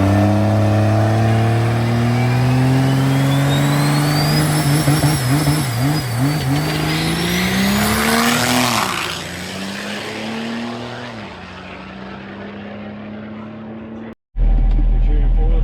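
A race truck's engine revs loudly and climbs in pitch during a King of the Street race, the roar easing and fading off toward the end before a brief cutout.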